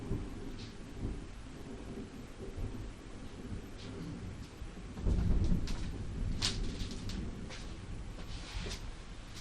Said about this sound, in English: I saw the lightning and I can hear the thunder.